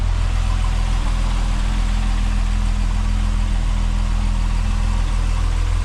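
VW MK4 VR6 wagon with GIAC tune, 268 cams, intake and exhaust idling steadily, a smooth, even low rumble close by, continuous and alone without any voices.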